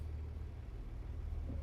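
A truck engine in American Truck Simulator gives a low, steady rumble, quiet and continuous with no voices over it.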